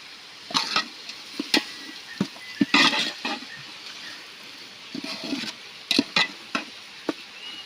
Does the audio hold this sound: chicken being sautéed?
yes